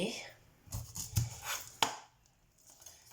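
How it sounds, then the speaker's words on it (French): A knife slices around a pineapple's rounded side, producing a few quiet, close cutting crunches and thuds at irregular intervals. "On coupe en arrondi parce qu'il est un peu arrondi l'ananas"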